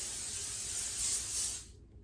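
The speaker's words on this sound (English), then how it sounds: "I'm just gonna spray it up real good" A short, continuous hiss of cooking spray sprayed onto a pan, lasting under two seconds, close by, then cutting off.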